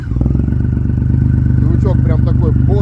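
Triumph Rocket III motorcycle with an aftermarket Hammer exhaust idling, a deep, steady, loud engine rumble close by, with people talking over it toward the end.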